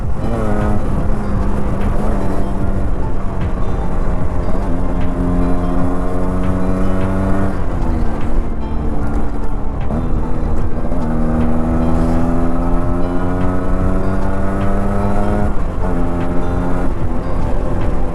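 A Yamaha RX-Z 5-speed two-stroke motorcycle engine droning loudly and continuously while riding, its pitch climbing and falling repeatedly through gear changes, with heavy wind rush throughout.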